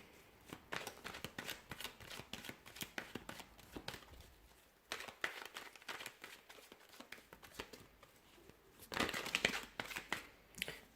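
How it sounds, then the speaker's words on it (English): Tarot cards being shuffled by hand, a series of soft riffling and slapping bursts with brief pauses, quiet and close with no speech. "I'm going to go ahead and give the cards a shuffle"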